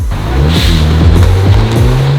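A car starts moving after leaving a car wash, its engine note rising steadily through gear changes, loud and close with a constant rumble and no voices.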